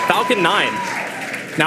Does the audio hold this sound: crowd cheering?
yes